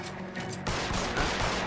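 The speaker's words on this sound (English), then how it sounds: "That was a Tommy gun." Tommy gun fire in the video game LA Noire: after a quieter start, a sudden sustained burst of rapid automatic shots erupts and rattles on loudly to the end.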